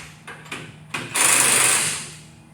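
Impact wrench driving clamps tight onto the jacking points of a Honda Civic: a few short rattling bursts, then one longer, loud sustained hammering run that fades off, close by.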